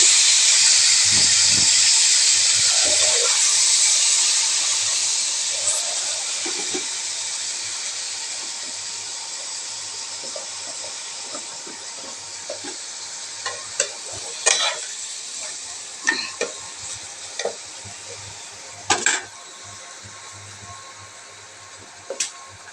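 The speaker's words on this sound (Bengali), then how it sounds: "হয়ে গেছে ফোড়নটা ভাজা। এবার আমি মাংসটা দিয়ে দেব।" Mutton dropped into hot oil with fried tempering spices, sizzling and frying loudly at first, then settling into a softer steady hiss with occasional clinks and scrapes of stirring.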